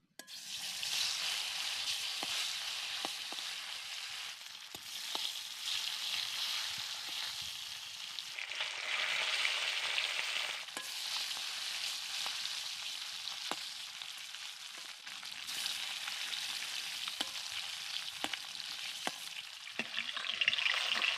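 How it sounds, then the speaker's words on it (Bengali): Small puti fish frying in hot oil, a steady close sizzle with faint crackles and occasional spatula scrapes and taps throughout, no talking. "এইভাবে আমি সবগুলো মাছকে ভেজে নেবো"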